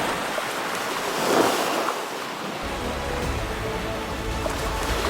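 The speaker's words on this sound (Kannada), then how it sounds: "ಸಮುದ್ರದಲ್ಲಿ ಅಲೆಗಳ ಅಬ್ಬರ ಜಾಸ್ತಿ ಇರುತ್ತೆ." Sea waves roar and wash steadily at the shore, a soft continuous surf with gusts of wind noise and a deeper swell coming in partway through.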